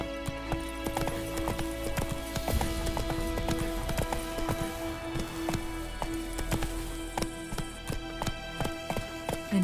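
Roach, a horse in The Witcher 3 video game, gallops along with a steady, rapid drumming of hooves over a rain-like patter and a faint musical score, close and continuous.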